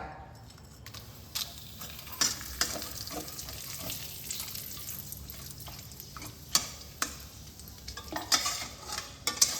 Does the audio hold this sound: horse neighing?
no